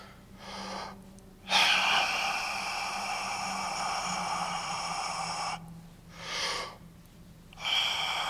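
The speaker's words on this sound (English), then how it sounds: "Bringing the air up, locking it in, and then pushing from there." Breath drawn in and held for diaphragm support in a saxophone masterclass, a sharp intake then a long sustained airy hiss, followed by shorter breaths, close with a low steady hum underneath.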